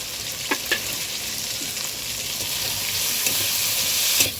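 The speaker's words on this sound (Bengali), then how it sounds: "বেটে রাখা কাঁচা লঙ্কা আমি কাঁচকলার মধ্যে দিয়ে ভেজে নেব।" Raw green banana frying with chili paste and turmeric in a pan gives a steady, loud, close sizzle, broken by a few stirring knocks and scrapes, growing hissier toward the end.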